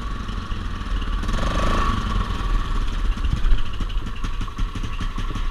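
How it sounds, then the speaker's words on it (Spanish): A Yamaha Grizzly 660 4x4 ATV engine idles steadily after repair of a stalling-at-idle fault, a continuous close, moderately loud rumble with light mechanical clatter. "La motocicleta ya prende, funciona, no se ahoga, no petardea."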